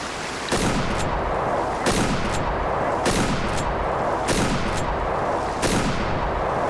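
Hunting rifle shots at ducks beside a river in rainy weather in Way of the Hunter, six loud, evenly spaced blasts about a second apart, each with a short rumbling tail, and no talking.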